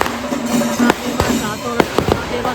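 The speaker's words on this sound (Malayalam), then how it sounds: "ഇഷ്ടംപോലെ പടക്കവും എല്ലാം ഉണ്ട്." Firecrackers burst at a temple festival procession with an elephant, as several sharp, loud cracks go off irregularly against a steady background drone. People talk nearby.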